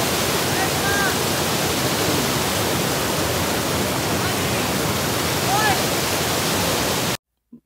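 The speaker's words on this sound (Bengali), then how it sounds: "শা শব্দ, শুধু পানি, ক্লিন নেট অ্যান্ড ক্লিন পানি, যে শুধু ওয়াটারফলস।" A waterfall pours out a dense, steady hiss of rushing water, loud and enveloping, running unbroken before cutting off abruptly near the end.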